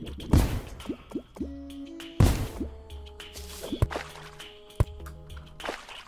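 Water splashes and drips into a pit in Terraria, with a series of wet plops and drip sounds over a low rumble, several sharp splashy bursts standing out against softer game tones.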